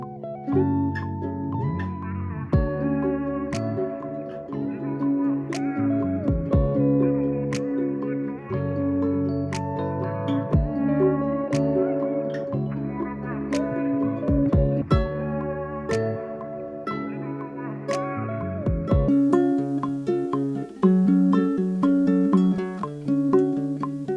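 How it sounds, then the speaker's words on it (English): A guitarlele, a small nylon-string guitar, plucks arpeggiated chords in a steady flowing pattern, notes ringing one after another over a soft backing loop. "This is a guitarlele."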